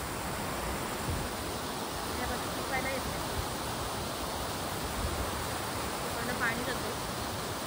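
Water rushes steadily through a small channel at a rain-fed stream where fish gather, a constant broadband roar that stays even and close throughout.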